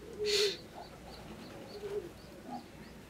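Racing pigeons coo in a loft, a loud close burst near the start followed by softer, repeated coos and faint calls spread through the rest.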